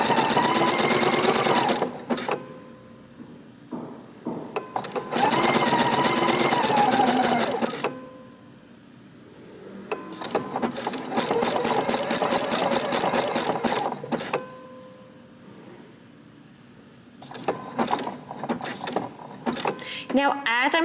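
Sewing machine stitching fold over elastic in bursts of rapid, even needle chatter, separated by short pauses with a quiet voice talking between runs.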